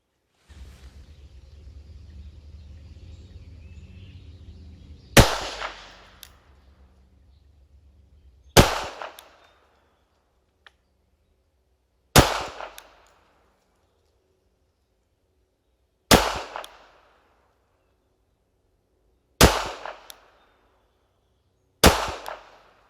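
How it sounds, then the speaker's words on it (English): A Girsan MC14T pistol fires Federal HST and Remington FMJ rounds on a range: six sharp, loud reports spaced a few seconds apart, each with a short decaying echo, after a stretch of low rumbling background. "I want all 5 of the HSTs to cycle through the action of the pistol"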